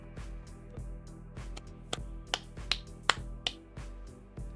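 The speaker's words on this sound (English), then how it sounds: "Just a little bit of clapping," Light hand clapping, a few sharp slaps spaced irregularly over a steady low hum, fairly close and not loud.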